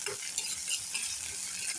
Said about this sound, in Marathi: तर आता बघा फोडणीमध्ये कांदा घातलाय,